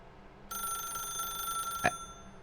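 A telephone rings in the video game The Stanley Parable: a single bright electronic ring sounds steadily after a short pause over a quiet background hum.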